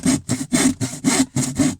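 A hand saw cuts through wall lining board on a narrowboat in six quick, even back-and-forth strokes, each a close, loud rasp with brief gaps between, and no voices.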